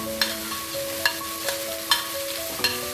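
Zucchini sizzles in a hot pan during spaghetti cooking, a steady frying hiss broken by four or five spaced scraping stirs of a spoon against the pan, close and alone without talk.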